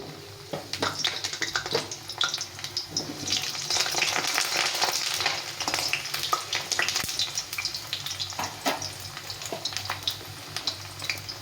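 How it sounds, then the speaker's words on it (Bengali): Thin-sliced potatoes deep frying in hot oil, a steady close bubbling sizzle with crackling pops and occasional stirring clinks, swelling louder through the middle and staying continuous throughout. "প্রথমে আলুটাকে ভেজে নিতে হবে ভালো করে, একটু ডিপ ফ্রাই করে ভেজে নেব।"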